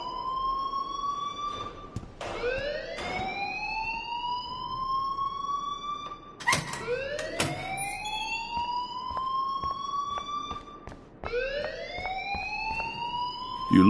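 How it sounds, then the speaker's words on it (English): Inside the video game Life is Strange, a loud electronic alarm rings in repeated rising whooping sweeps that restart every few seconds, punctuated by sharp clicks and thumps. "please turn off that alarm since that's your job"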